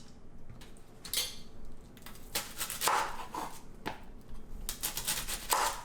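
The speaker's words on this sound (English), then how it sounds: "So we'll start by cutting up the onion first." A knife chopping an onion for raita on a cutting board, a series of crisp irregular cuts and taps, close and fairly quiet with no one talking.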